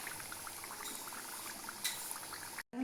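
Samosas fry in oil over a medium gas flame, giving a soft, quiet, continuous bubbling crackle that cuts off abruptly near the end.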